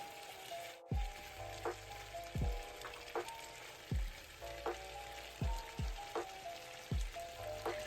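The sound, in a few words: stirring ingredients in sauce while cooking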